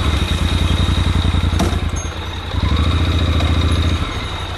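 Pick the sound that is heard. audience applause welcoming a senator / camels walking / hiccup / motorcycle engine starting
motorcycle engine starting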